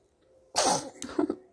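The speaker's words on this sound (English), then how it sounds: "I just caught like the cutest sneeze and then after smile" A baby's single short sneeze, close and abrupt, followed by a few soft breathy vocal sounds.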